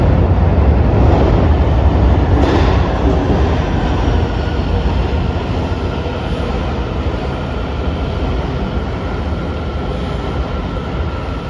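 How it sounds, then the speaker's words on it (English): A DC Metro train pulls into a station, rolling over a splice bar at the northern end of the southbound track, a loud, steady rumble of wheels on rail with faint rhythmic clacking and no voices. "the station has a splice bar at the northern end of the southbound tracks, so you hear that nice clickety-clack sound as trains enter the station"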